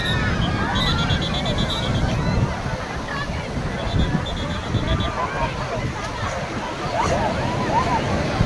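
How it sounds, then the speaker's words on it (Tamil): Strong sea waves wash continuously onto Kochuveli beach in Kerala, a loud steady surf roar with wind buffeting, while nearby voices chatter underneath. "அலையின் தாக்கம் அதிகமாக உள்ளது"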